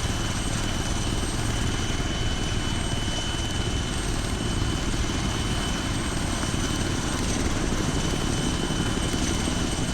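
A helicopter in the video game ArmA 3 gives off a continuous, loud rotor and engine drone that holds steady and close for the whole stretch, with no speech over it.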